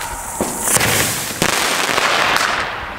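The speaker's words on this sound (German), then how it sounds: "der Abschuss hört sich echt genauso an wie damals die 50 mm Diamond Bombenrohre" Firework shell tubes launch and burst in a loud outdoor display, with several sharp thumps and cracks over a continuous crackling, hissing wash.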